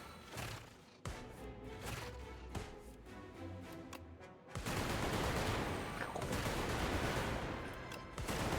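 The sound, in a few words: machine gun firing in the video game Brotato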